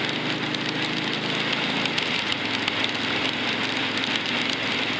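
Motorcycle engine running steadily during gear changes, a loud, continuous mid-pitched drone with wind rush, heard close and without a clear shift break.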